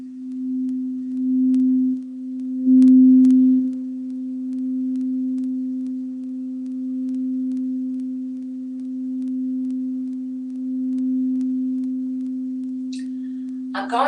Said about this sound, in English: So Glory, why don't you start by demonstrating some of the sound bowls?